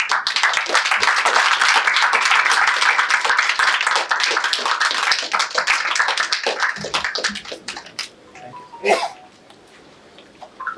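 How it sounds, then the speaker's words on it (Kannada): Dense, sustained applause from an audience at a media event celebrating the success of the Kannada film Yuddhakaanda Chapter 2. It fills the room for about seven seconds, then thins out and fades to scattered claps. "ನಿಮಗೂ ಒಂದು ಚಪ್ಪಾಳೆ ಕೊಡೋಕ್ಕೆ ಇಷ್ಟಪಡ್ತೀನಿ"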